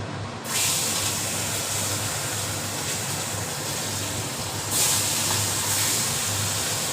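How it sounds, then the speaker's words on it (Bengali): Fish pieces rubbed with salt and turmeric sizzle in hot oil for a Bengali koi fish dish, a continuous loud frying hiss that swells slightly near the end, with no talking. "এবার আমি এগুলো ভেজে নেবো সব।"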